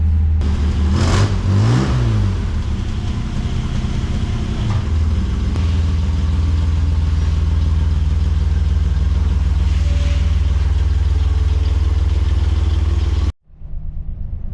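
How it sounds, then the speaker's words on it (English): A Buick Special with a 225 one-barrel V6 fires up and revs hard several times, then settles into a loud, steady run close by before cutting off abruptly near the end. "Buick Special 225 one barrel V6. You pump it, you pump it, you crank it, you pump it. There we go. It is alive."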